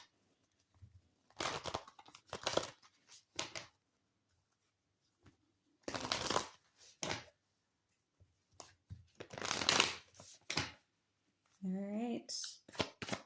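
A deck of oracle cards is shuffled by hand in short bursts of riffling and sliding card noise with quiet gaps between them, and a few brief spoken words are heard near the end.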